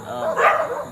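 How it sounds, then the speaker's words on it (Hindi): Several dogs bark at night at an outdoor location, one brief yelping bark rising out of a murky background of more distant barking and rustle. "बहुत कुत्ते भौंक रहे हैं।"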